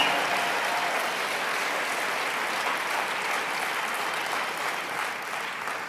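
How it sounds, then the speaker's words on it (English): An audience gives the presenters a sustained round of applause, a dense, even wash of clapping that fades slightly toward the end. "Let's give all the presenters a tremendous round of applause"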